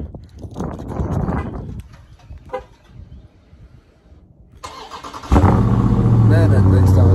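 A Dodge Charger engine starts partway through with a sudden loud burst, then settles into a deep, steady close-up rumble; before it, people talk over quieter background noise.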